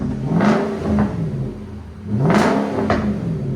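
A 2020 Nissan Armada Platinum's 5.6L V8 with a Magnaflow Magnapack exhaust revs twice up close, each loud rising blip dropping back to a deep idle rumble between.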